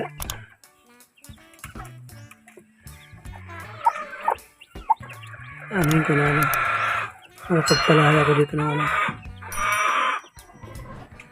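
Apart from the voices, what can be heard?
chickens and chicks clucking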